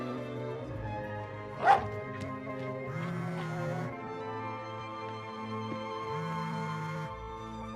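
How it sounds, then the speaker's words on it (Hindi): A dog gives a single sharp bark midway, heard under steady background music with sustained tones throughout. "इसे देखकर क्यों भौंक रहे हो तुम?"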